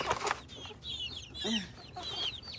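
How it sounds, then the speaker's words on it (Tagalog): Chicks and hens cluck and peep near a Filipino backyard, a run of short high chirps and soft clucks coming and going over a low background murmur, close by and moderately loud. "Yung mga sisiw ko din, oh."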